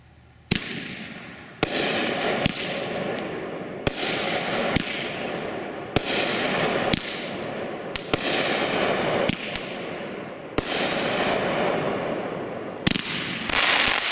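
A Shogun consumer firework cake called "we mean business" fires a steady series of loud, sharp reports about once a second, each shot followed by crackling and sizzle that fills the gaps, close by and without talk.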